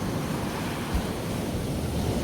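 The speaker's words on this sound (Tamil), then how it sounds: "கடல் அடிய பாருங்க" Sea waves wash onto a beach after a storm, heard as a steady broadband roar of surf mixed with wind buffeting the microphone, with no voices.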